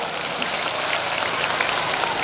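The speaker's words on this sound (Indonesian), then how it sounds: "Tepuk tangan untuk Al-Khairat." A crowd at a Prophet's birthday commemoration applauds, a dense, loud, hissing wash of clapping that fills the short stretch evenly, almost like heavy rain.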